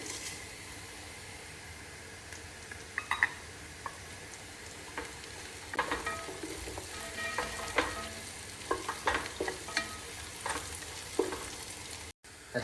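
Onions sizzling in hot ghee with spices, a steady quiet frying hiss broken by repeated scraping and clinking as the pan is stirred, close and faint with no voices.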